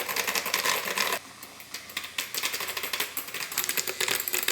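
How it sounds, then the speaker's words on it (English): Handheld milk frother whipping a maple syrup drink, a rapid buzzing whir with rattling, briefly cutting out before restarting and continuing steadily, close and fairly loud, with no talking. "And then I froth it with a frother for about at least 30 seconds"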